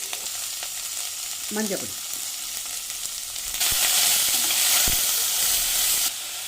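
Mustard seeds, asafoetida and ivy gourd fry in oil in a pressure cooker: a soft steady crackle that jumps to a loud, bright sizzle when the gourd goes in, with a brief spoken word and utensil clinks.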